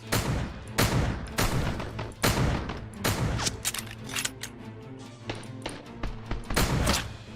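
Rapid gunshots ring out in a shooting video game on insane difficulty, loud sharp cracks arriving in irregular bursts and single shots over a low game soundtrack, with no talking.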